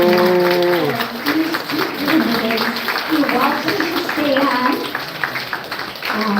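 Audience applause at a live county executive candidate forum, moderately loud clapping running steadily under a voice that talks over it.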